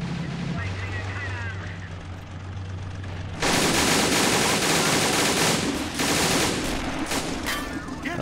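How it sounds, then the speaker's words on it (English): Sustained machine-gun fire in a war video game, troops under fire near the Katusha area, a dense continuous rattle of bursts that sets in abruptly after a quieter stretch and keeps going. "Machine guns are firing on the troops moving through the Katusha area."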